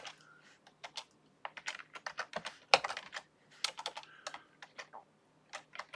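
Text typed on a computer keyboard, bursts of quick, crisp key clicks in an uneven rhythm with short pauses, close and clear.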